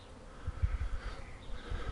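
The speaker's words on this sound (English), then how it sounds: "this is the first swarm of the year" A swarm of honeybees hums in a low, continuous drone, fairly faint and close, with uneven pulses of buzzing and no talking.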